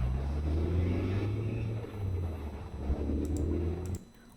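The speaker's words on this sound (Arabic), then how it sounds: "فلو جينا شغلنا بتسمع صوت السيارة لهذاك الكليب على الكليب اللي انت اخترته" A car sound effect on a clip in Adobe Premiere Pro gives a low, rumbling engine drone with a few surges, then cuts off abruptly near the end, followed by faint clicks.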